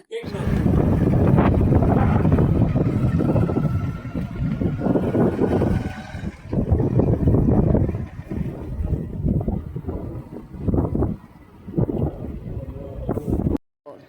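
Gusty wind buffets the microphone in loud, uneven rumbles, surging and easing in waves outdoors in the Gujarati countryside.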